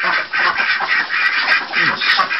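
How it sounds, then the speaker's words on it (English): Several ducks quack loudly and close by in a rapid, overlapping chorus as they are herded out of a back barn. "They're off to the races with Daffy Duck leading in third place"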